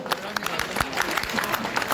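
Audience applause at a mushaira poetry gathering in Bulandshahr, a dense, steady crackle of many hands clapping together, fairly loud and continuous, with a voice briefly heard over it.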